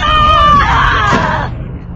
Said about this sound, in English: ¿Cómo grita enemigo?